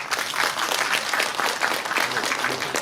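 An audience at a peace forum on the Hantan River gives steady, sustained applause, dense clapping filling the hall for a few seconds with no one speaking.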